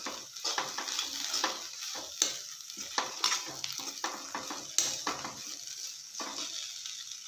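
A spoon stirs North Karnataka-style boiled green chilli chutney in a hot pan with soft, continuous scraping and a faint sizzle throughout.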